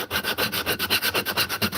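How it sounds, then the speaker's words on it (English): Rhythmic sandpaper rubbing inside a carved wooden cup, quick back-and-forth strokes repeating steadily and close up, with no voices. "The only annoying thing about carving out a cup is sanding the inside of it."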